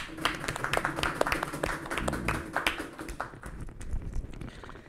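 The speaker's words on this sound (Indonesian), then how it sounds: "kita beri sambutan atau tepuk tangan yang meriah buat duel Hegel dan Platon." Scattered, modest applause from a small group at a philosophy presentation, quick uneven claps that thin out and fade over a few seconds.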